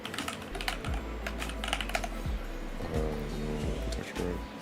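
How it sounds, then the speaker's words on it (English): Rapid, close-up clacking of a computer keyboard being typed on in short bursts, with a steady low hum running underneath. "I'm really just retyping all these"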